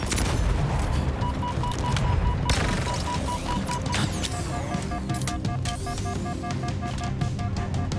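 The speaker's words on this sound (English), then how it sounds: "I landed a grenade on him and two shots." In the video game Halo Infinite, a grenade explosion mixes with repeated gunfire bursts and sharp impacts, loud and continuous across several seconds, with game sound effects layered on top.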